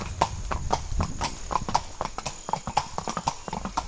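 Hooves of a horse carrying a rider clip-clop on a trail at Matheran, a hill station, in a brisk, even rhythm from close by. Low background noise sits under the steps, and there is no speech.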